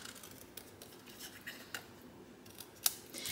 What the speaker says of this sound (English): get your paper snips, which mine are right here, and just go around like this